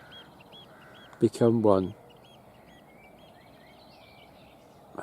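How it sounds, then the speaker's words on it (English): In a quiet morning countryside near Rye, a single harsh, crow-like caw bursts out close by over a soft outdoor hush, and a brief voice is heard. "And some more birdsong that I don't know."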